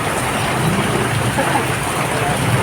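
Heavy rain pours down outdoors in a city barangay, a loud, dense, steady hiss of falling water that fills the whole stretch without letting up.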